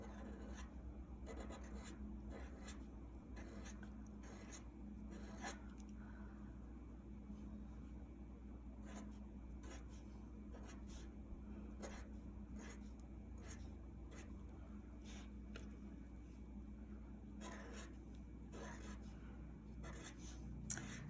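A pen draws pattern lines and shapes on paper, giving a steady run of faint, repeated scratchy strokes over a constant low background hum, with no talk.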